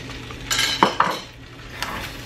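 Beaten eggs, seven extra with yolks broken up, stirred in a pan from scratch: a few sharp utensil clinks and scrapes against the pan in a quiet kitchen, close and brief, with no talking.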